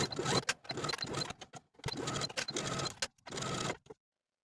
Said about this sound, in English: take it to your sewing machine and sew close to the inner fold of your rolled hem all the way around